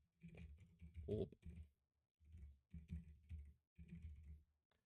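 Typing on a computer keyboard, quiet bursts of quick clicking keystrokes in three clusters separated by short pauses, close and soft.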